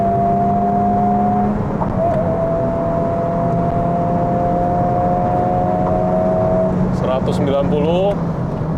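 Honda Civic Type R 2023 taking a corner on a test drive in individual mode, a steady droning engine and road noise with sustained tonal whine, shifting pitch near the end, heard under continuous talk from the driver.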